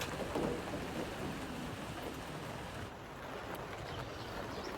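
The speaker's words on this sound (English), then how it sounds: "The sound of the rain is very melodic as I work." Steady rain falls softly with a continuous hiss, even and unbroken, at a low level with no voices.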